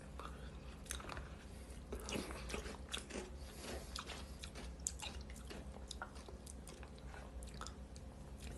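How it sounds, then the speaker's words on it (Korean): Someone chews crunchy kkakdugi radish kimchi with a bowl of hearty gukbap, giving repeated wet, close crunching bites and smacks in an irregular rhythm over a low steady room hum. "지금 깍두기 씹는 거"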